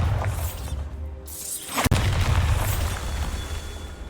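A single sharp Bombarda spell explosion in Hogwarts Legacy, preceded by a rising whoosh, bursts loudly and close amid steady game ambience, then settles into a low rumbling tail.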